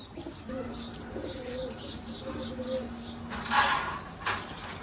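Pigeons coo softly in low, repeated rolling calls while being given deworming water, with light chirps and a brief rustle of wings or handling noise toward the end.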